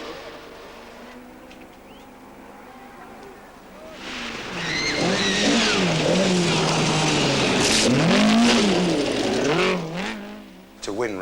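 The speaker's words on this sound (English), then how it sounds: "As Roger Clark's TR7 goes by" Roger Clark's Triumph TR7 rally car approaches and passes close by, its engine rising into a loud, revving roar with wavering pitch as it goes past, then quickly fades. A voice is briefly audible beneath the noise.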